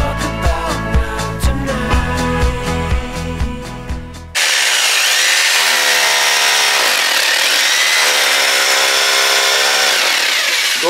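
A power drill bores through a half-meter-thick house wall for a pellet stove vent: a steady, loud grinding whine runs continuously after the opening seconds of background music.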